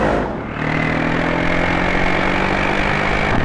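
A turbocharged sports car engine gives a loud, sustained drone with clear harmonic tones. It dips briefly near the start, then holds at a steady pitch.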